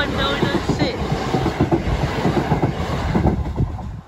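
Train rolling over Cliffsend level crossing, a loud continuous rumble with rhythmic wheel clatter close by, fading slightly at the end.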